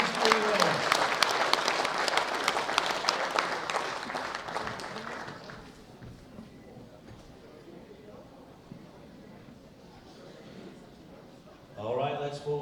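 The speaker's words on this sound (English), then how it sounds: "round of applause for these three winners" An audience at a junior men's world bench press championship applauds three winners, loud clapping that fades after several seconds to a quieter hall before an announcer's voice comes in at the end.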